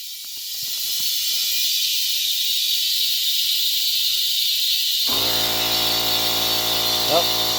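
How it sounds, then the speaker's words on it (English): An old air compressor filling a portable air tank, a continuous loud hiss of rushing air close by, joined partway through by a low steady motor hum. "Hook the old air compressor up."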